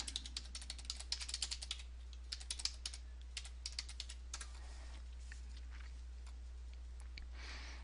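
Login details being typed on a computer keyboard, with quick, faint key clicks in short bursts that thin out toward the end over a low steady hum and no talk.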